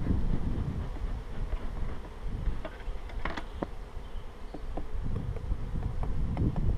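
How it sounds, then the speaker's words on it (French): Honeybees on the frames of a hive super full of honey fill the air with a close, continuous buzzing hum, with scattered crackles and light handling noises and a bit of wind, no speech. "c'est encore là plein d'abeilles, vous pouvez le constater"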